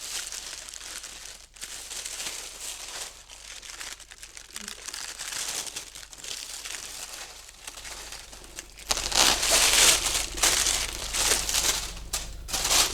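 Thin tissue paper crinkles and rustles close by while a secondhand Saint Laurent bag is unboxed, handled in soft bursts that grow louder and busier toward the end.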